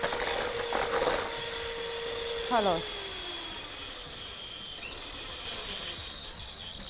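An electric mixer whips meringue for a yogurt cake, giving a steady motorcycle-like motor drone that slowly drops in pitch, with people talking over it.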